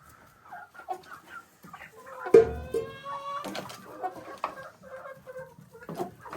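Several chickens clucking and cackling while feeding in a village yard, irregular close calls rising in a burst partway through, with rustling and small knocks between them and no talk.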